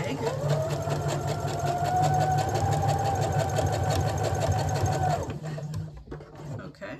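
A domestic sewing machine runs a zigzag stitch in a steady, close mechanical whir with rapid needle ticking, then stops, while a person talks over it.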